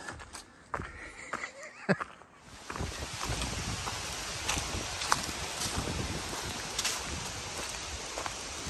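Steady wind roars and buffets against the microphone on an Appalachian Trail ridge, starting after a few quiet seconds of rustling and footsteps.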